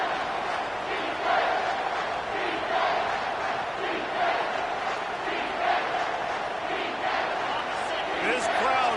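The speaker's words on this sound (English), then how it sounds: "this crowd is bringing down the house" A packed football stadium crowd roars steadily through a third down, a loud continuous wall of cheering and shouting with surges, close and unbroken.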